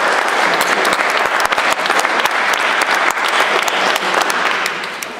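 Loud, close applause from an audience at a conference and debate held in a villa, steady dense clapping that carries on throughout and eases slightly near the end.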